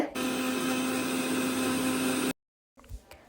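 An electric mixer grinder whirs steadily as it blends egg and sunflower oil into mayonnaise, a loud, even motor drone with a constant pitch that cuts off abruptly, followed by quiet handling noises.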